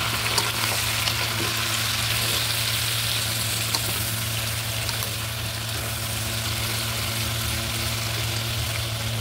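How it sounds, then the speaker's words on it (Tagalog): Tomato and onion frying in a pan at a beach resort outing, a dense continuous sizzle with steady crackle throughout, close and fairly loud over a low background hum, no voices. "lutuin muna natin saglit yung ating kamatis at sibuyas"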